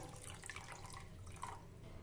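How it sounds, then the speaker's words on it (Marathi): Water is poured into washed barnyard millet in a kitchen, making a faint, steady trickling splash that runs the whole short stretch with no talking. "आता यामध्ये पाणी घालूया"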